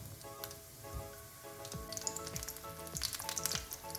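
Pieces of a boiled egg and potato snack fry in hot oil until golden, giving a steady close sizzle broken by scattered pops and crackles, with no voices.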